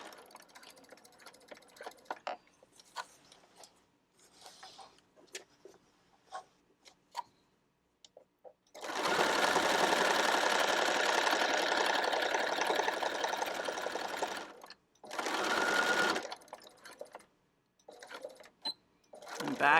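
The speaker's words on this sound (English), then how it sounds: "we're going right over that opening and sewing it shut" Sewing machine stitching across the opening of a canvas tote bag, a steady loud whirring run in the middle with a shorter burst after, surrounded by quieter handling clicks and pauses.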